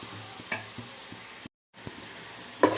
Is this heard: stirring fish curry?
yes